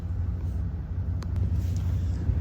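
A customer's truck pulls in on a snowy lot, its low engine rumble steady and fairly close throughout, with a faint brief clatter partway through.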